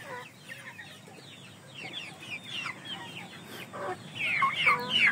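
Indio Gigante chickens cluck and squawk in a steady scattered stream, growing louder and busier toward the end, with no one speaking.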